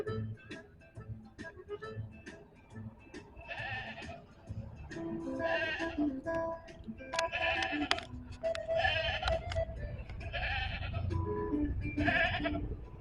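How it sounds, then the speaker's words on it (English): A pet goat on a dairy farm in northern Italy bleats repeatedly, loud and close, the calls coming in irregular bursts over steady background noise. "this is Gina, my pet goat"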